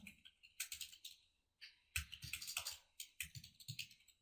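Rapid clicking keystrokes on a computer keyboard as a title is typed, coming in three quick bursts separated by short pauses, close and fairly quiet, with no voices.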